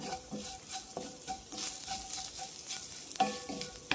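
Spice masala roasting in a pan ahead of adding meat, a soft continuous sizzle with light stirring and occasional utensil clinks, fairly quiet throughout.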